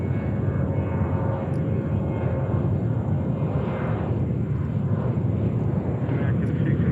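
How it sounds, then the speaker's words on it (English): A fixed-wing airliner at JFK airport roars with a loud, steady, broad engine rumble held throughout, with a thin tonal whine above it. "finally an aircraft."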